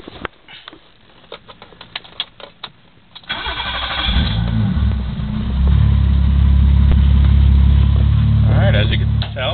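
A BMW 325e with the M20 six-cylinder engine, unstarted for about two weeks, cranks briefly then catches and settles into a loud, steady idle, close to the microphone, with scattered clicks before the start.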